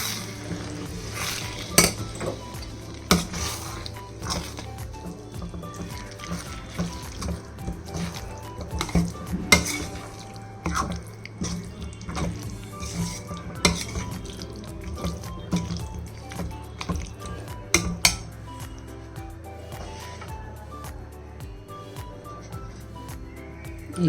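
Vangi bath being mixed in a pan, with repeated scraping and clinking of a spoon against metal, soft wet stirring and occasional sharp taps, steady and close, no talking.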